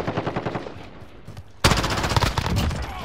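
Rapid machine-gun fire in Modern Warfare: a softer burst of evenly spaced shots, then a sudden louder, denser volley of automatic fire continuing to the end.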